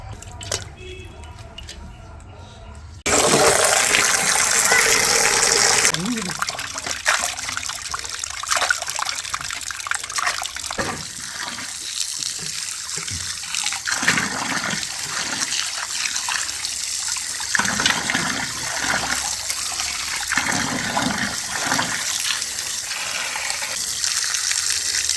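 Running water splashes and pours steadily as rock fish is rinsed and scrubbed for a fish biryani, a continuous close hiss of flowing water with small splashy shifts throughout.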